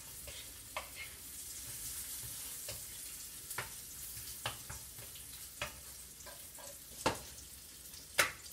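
Hot dogs fry and brown in a pan: a steady close hiss of sizzling fat, broken by scattered sharp pops and spatters that grow louder toward the end, with no talking.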